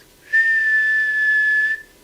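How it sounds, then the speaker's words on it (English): A person whistles one steady, clear high note into a radio microphone on an amateur radio broadcast, a single sustained tone of about a second and a half against near silence. "But if I do a whistle here"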